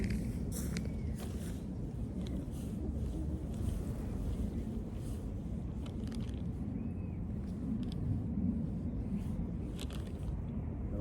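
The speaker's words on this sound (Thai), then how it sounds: "ลมแรงครับ" Strong, gusty wind at an open-air kite-flying session with large traditional Isan kites, roaring steadily as a low rumble and buffeting the microphone throughout, with no talk.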